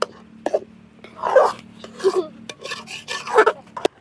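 A spoon scrapes and stirs thick black urad dal and ragi porridge sweetened with country sugar in a pot, giving repeated close rasping strokes in short uneven bursts with no talking.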